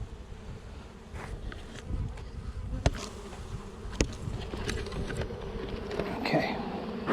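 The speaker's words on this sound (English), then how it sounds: "there's a lot of bees here" Honey bees swarming a busy, open hive crowded with burr comb make a dense, steady buzz close by, with brief louder passes as individual bees fly near.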